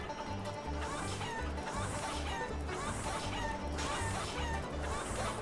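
A racing chicken clucks in a chicken race in a Yakuza video game, with repeated clucks over a steady, rhythmic low backdrop of game sounds, close and fairly loud throughout.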